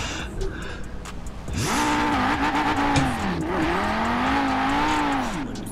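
Audi RS2 in Forza Horizon 4 drifting: a loud engine rises and holds a sweeping, wavering pitch with tire squeal as the car slides, after a quieter lead-in.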